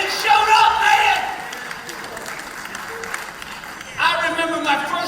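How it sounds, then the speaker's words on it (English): An audience at an all-staff recreation training bursts into clapping and whoops, loud at first, easing into scattered claps and cheers, then swelling again near the end. "I remember, somebody clap."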